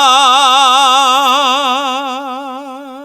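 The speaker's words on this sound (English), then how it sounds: "starting on a pitch and then singing it really quietly and then crescendoing and then diminuendoing all on the same pitch" A singer holds one sustained pitch with a wide, even vibrato in a messa di voce exercise, the tone clear and close and slowly fading in volume toward the end.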